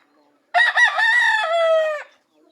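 A rooster in a small backyard chicken coop gives one loud, close crow lasting about a second and a half, framed by near silence.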